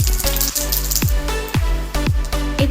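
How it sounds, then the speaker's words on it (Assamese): Panch phoron seeds spit and pop in hot fish-frying oil alongside dried red chillies for an Assamese sesame fish curry, a close continuous sizzle punctuated by a series of sharp crackles, no talking. "অকণমান পাঁচফোৰণ দি দিছোঁ।"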